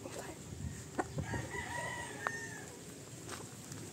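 Chickens with a rooster crowing, a drawn-out cock-a-doodle-doo rising over scattered clucks and short calls from nearby fowl, set against a busy outdoor background.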